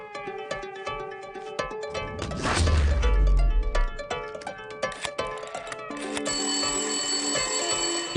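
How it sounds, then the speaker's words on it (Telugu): A telephone rings with an incoming call in a tense film scene, sounding as bright, repeated tones over a busy musical score with a heavy low swell in the middle. "ఇంకో నెంబర్ నుంచి మనం ట్యాప్ చేస్తున్న నెంబర్ కి కాల్ వస్తుంది సార్"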